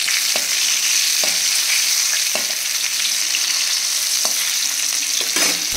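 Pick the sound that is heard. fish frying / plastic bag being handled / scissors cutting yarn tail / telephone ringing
fish frying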